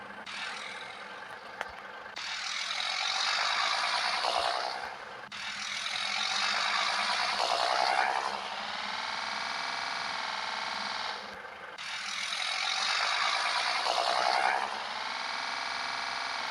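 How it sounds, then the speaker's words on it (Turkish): A truck engine rumbles close by, revving up in repeated bursts with hissing, roaring exhaust, then settling back to a steady idle between each. "egzozumuz bu şekilde arkadaşlar"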